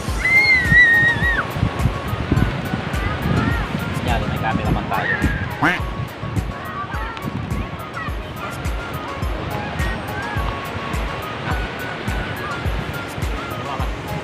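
Ocean surf breaks on a Pangasinan beach, a continuous low rushing wash of waves running throughout, fairly loud and near, while someone talks over it and a few faint birdlike calls rise briefly.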